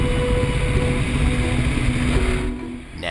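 Off-road dirt bike engines running continuously at a steady drone, loud and close, with the engine noise easing slightly near the end; no talking.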